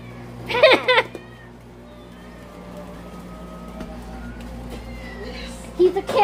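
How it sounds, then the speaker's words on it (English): A cat meows in a short burst near the start, with another brief meow at the end, over a steady low background hum. "I hear kitties meowing."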